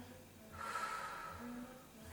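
A breathy exhale during a Pilates exercise, soft and close, rising for about a second in the middle of the clip with faint room tone around it.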